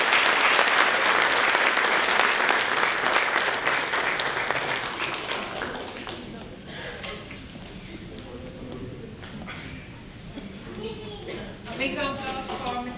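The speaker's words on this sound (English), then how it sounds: "Big round of applause for Mr. Naveen for sharing all the insights," Audience applause at an annual investor meet: loud, crisp clapping fills the first half, then thins and fades as talking takes over toward the end.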